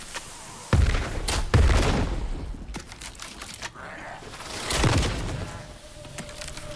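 Shots ring out in the game Nightingale, a few heavy booming gunshots at irregular intervals, each with a rumbling tail, loud and close over quieter game ambience.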